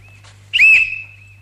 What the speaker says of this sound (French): À mon coup de sifflet, il doit s'arrêter et le second commencer